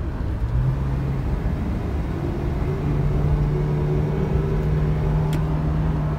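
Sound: car accelerating after shifting to third gear to overtake

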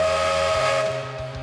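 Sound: train whistle of approaching train

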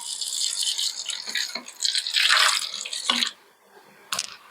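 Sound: hot boiled water poured into a bottle

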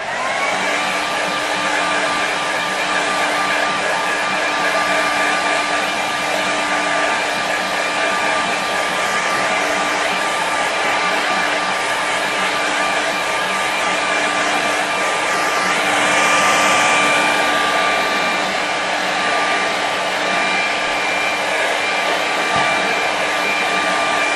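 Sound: hair dryer quick-drying a watercolour painting

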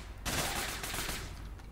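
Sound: ATAC Watchman gun firing in video game APB Reloaded

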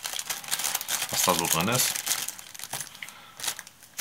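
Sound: small plastic bag being opened and contents tipped out

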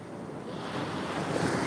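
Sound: sea waves at Shankarpur beach

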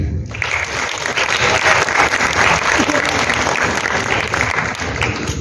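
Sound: applause for Adnan Siddiqui at a tribute event

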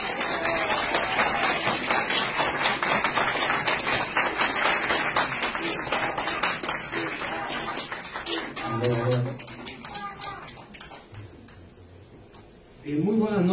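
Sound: audience applause welcoming a speaker

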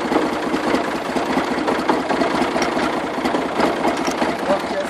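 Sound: Massey Ferguson 135 tractor engine running

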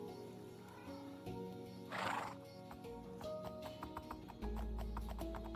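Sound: horse sounds in Minecraft video game, SWEM mod

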